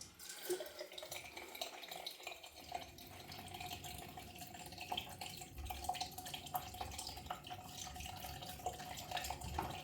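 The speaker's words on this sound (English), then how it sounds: "Bit of water on there." A tap runs steadily into a sink, a constant close splashing stream with small drips and clinks over it.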